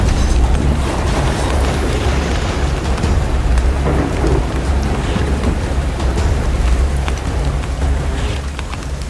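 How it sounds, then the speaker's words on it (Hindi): Heavy, continuous rain pours down with a deep rumble of thunder underneath, a dense, loud wash of downpour lasting throughout with no voices. "3 दिन बीत गए और पानी अभी भी बरस रहा था।"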